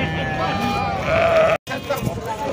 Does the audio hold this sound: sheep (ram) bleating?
yes